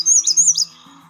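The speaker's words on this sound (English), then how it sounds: "You can also listen to the American Redstart." An American Redstart sings a short, high, sweet series of thin chirping notes, clear and close, with a soft background hiss after the phrase ends.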